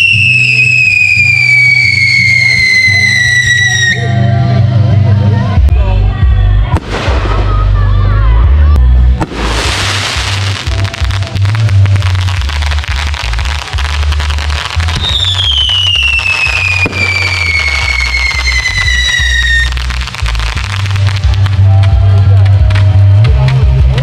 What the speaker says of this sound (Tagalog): Ayan pa yung fireworks Oh, ang dami.